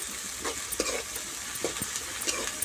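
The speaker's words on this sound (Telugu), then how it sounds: "మంచిగా ఫ్రై చేసుకోవాలి" Onions and mint frying in a pan for a curry, giving a steady hiss with soft intermittent stirring scrapes, heard close and with no talking.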